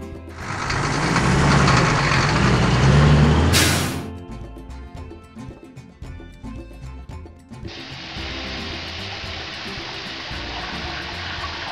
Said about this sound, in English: Water tank.